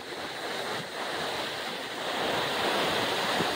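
Ocean surf rolls continuously onto the shore, loud and close, with wind rushing over it.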